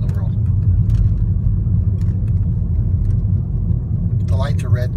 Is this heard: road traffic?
yes